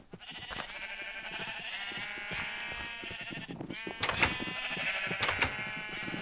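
White sheep bleating in the Minecraft video game, several repeated game-style bleats layered over continuous background music, moderately loud throughout.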